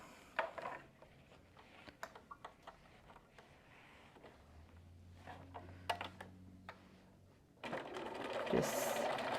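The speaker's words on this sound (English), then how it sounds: "I'm just going to sew right around that circle." Fabric and clips are handled at a sewing machine while stitching around a fabric circle, giving soft ticking and tapping, a low motor hum in the middle, then a louder, steadier stretch toward the end.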